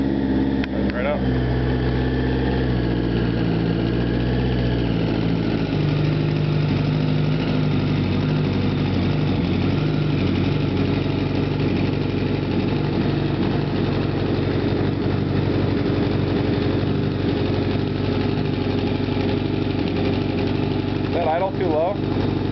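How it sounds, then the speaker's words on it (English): A 1983 Honda CB550 motorcycle engine idles steadily and close by, a continuous low rumble that wavers slightly in pace. "Here's how she runs now."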